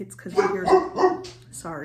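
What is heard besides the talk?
dog barking in the background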